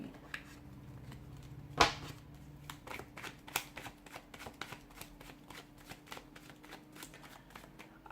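Tarot cards are shuffled and slipped back into a deck close by, a run of quiet crisp flicks and taps with one sharper snap early on, with no talking.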